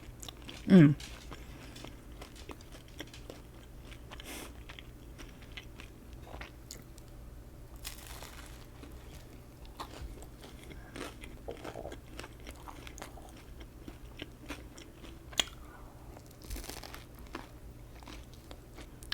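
Biting and chewing garlic bread eaten with spaghetti, one loud close crunch near the start, then soft intermittent chewing and mouth sounds over a quiet room background.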